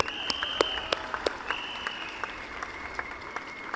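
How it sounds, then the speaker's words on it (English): An audience at a political rally in Fullerton claps in a brief, moderate round of applause, scattered individual claps standing out over a continuous patter. "can we all give an applause to Zhi Xiong, who is our sign language interpreter today"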